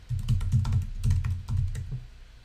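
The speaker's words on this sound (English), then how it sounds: "type in my Google Calendar ID" Rapid typing on a computer keyboard, a steady run of soft close keystrokes with a few louder taps, heard alone for about two seconds.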